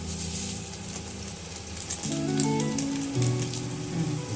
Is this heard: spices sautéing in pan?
yes